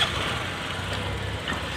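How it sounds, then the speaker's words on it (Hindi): A rebuilt Bajaj Platina BS6 motorcycle engine idles steadily and quietly after starting, a low, even, close putter with a faint mechanical rustle throughout. "अब देखो दोस्तों बाइक स्टार्ट है"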